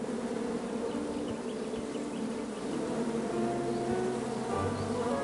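Bees swarming around a beehive in the King's Quest video game, a steady close buzzing drone that runs unbroken the whole time beneath a soft tonal game background.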